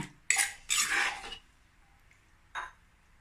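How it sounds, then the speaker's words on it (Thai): Vegetarian Thai som tam scooped onto a plate with a utensil, a few close scraping clinks of metal on dish in short bursts separated by quiet. "เดี๋ยวตักใส่จานก่อนนะคะ"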